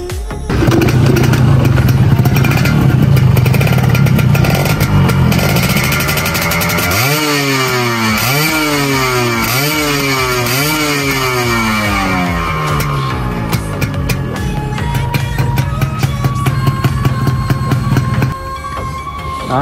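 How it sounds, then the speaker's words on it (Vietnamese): A Yamaha Yaz motorbike engine starts and runs steadily nearby, revving up and down in repeated surges before settling back to a constant idle. "để em nổ máy cho mọi người nghe tiếng máy của xe này nha"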